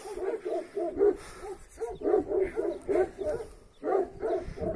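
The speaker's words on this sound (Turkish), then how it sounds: "Bizim köpekler sinyali verdi arkadaşlar." Herding dogs at a goat farm bark in rapid bursts of several deep woofs, loud and fairly near, with short pauses between the volleys.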